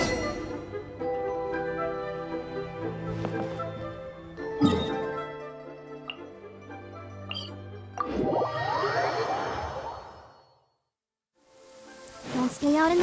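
Rain falling in the Genshin Impact game world, a steady soft wash under game music and scattered chimes and thuds, briefly dropping out near the end before returning.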